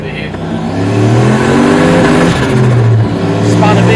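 LS1-powered turbocharged one-ton truck accelerating hard from second gear at 60, engine revving loud and rising to the rev limiter as the tyres spin, close and continuous throughout.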